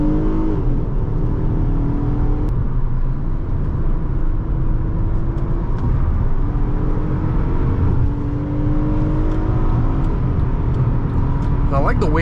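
A 2010 Honda Accord EX-L V6 accelerating hard from inside the cabin, a loud continuous engine drone rising in pitch with gear shifts breaking the climb, engine noise filling the whole stretch.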